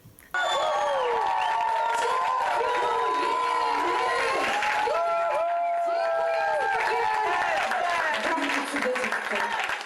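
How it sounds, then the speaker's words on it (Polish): A small gathering breaks into applause mixed with whoops and lively voices, steady and fairly close for nearly the whole stretch after a brief quiet start. "Mam pierwsze liczne brawa."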